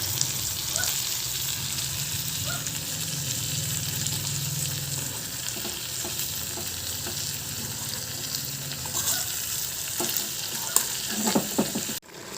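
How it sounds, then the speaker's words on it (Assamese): Fish curry with spices is stirred in a hot pan, giving a steady sizzle with scraping spoon strokes and occasional clinks against the metal; fairly quiet and close, with no talking. "মাছখিনি মছলাবোৰ যাতে লাগি ধৰে তেনেকৈ লৰাই ল'ম।"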